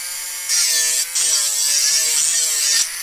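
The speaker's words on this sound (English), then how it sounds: "If you guys have actually some money to burn, get one of these grinders." A small handheld grinder works on a part from an Aoshima FT86 Rocket Bunny plastic model kit, giving a close, steady high-pitched whir with one brief dip, then stopping.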